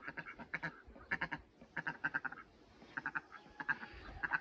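Ducks quack in a quick, scattered series of nasal calls, close and fairly loud, while keeping company with people doing autumn planting in a garden.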